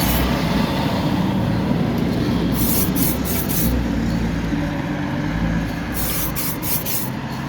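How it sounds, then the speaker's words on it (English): Steady roar of road traffic outside during a decal-finishing job on a guitar pedal, continuous broadband rumble with passing-vehicle swells and faint high hiss bursts, loud and unbroken throughout. "I really hope you can hear me with all this traffic noise."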